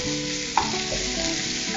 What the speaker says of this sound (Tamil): வெட்டி வச்ச ஒரு தக்காளி சேர்க்கணும்